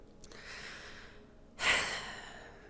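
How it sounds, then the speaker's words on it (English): Heavy breathing close to a microphone, a soft airy exhale followed by a sharper, louder breath that fades out, with no talking. "you could stop with the heavy breathing"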